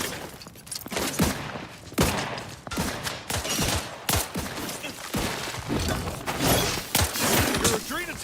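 Rapid gunfire against mechs in The Outer Worlds 2, a dense run of bursts and impacts layered over game music and effects, with a voice talking over much of it.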